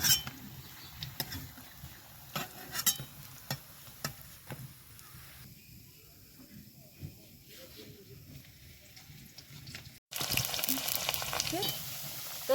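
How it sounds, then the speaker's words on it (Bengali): Thankuni (Indian pennywort) leaf fritters fry in hot oil until crisp, giving a steady close sizzle and hiss with occasional utensil clinks. The sizzle swells sharply louder near the end. "লাল লাল মচমচে করে আমি এই বড়াটা ভাজবো"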